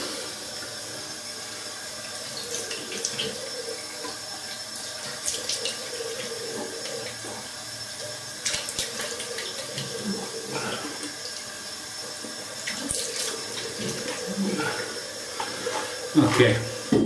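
Cold water runs steadily from a tap for a long stretch, with occasional clinks and splashes of handling at the sink, close by, while wet-shaving.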